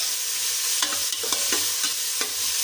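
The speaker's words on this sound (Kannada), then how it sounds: "ಚೆನ್ನಾಗಿ ಫ್ರೈ ಮಾಡ್ಕೋಬೇಕು" Onion, carrot, capsicum and green chilies fry in oil and butter for bread pizza, giving off a loud, steady hiss of sizzling broken by light, irregular taps of stirring.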